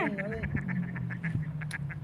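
Domestic ducks give a steady run of repeated quacks close by, with a person's voice briefly audible at the start.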